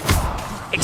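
A short, punchy impact with a brief whoosh as the Expelliarmus disarming spell is cast in Hogwarts Legacy on PS5, a single thud standing alone.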